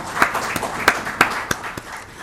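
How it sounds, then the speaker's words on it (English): An audience at a talk on Web3, blockchain and AI claps for speaker Rohan Saran, a short burst of scattered individual claps with distinct sharp hits spaced irregularly, fairly close and not heavy. "Let us clap for him. Big clap."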